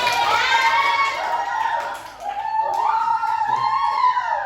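Children in a classroom clap and shout together for a group, a lively close burst of young voices and applause filling the room.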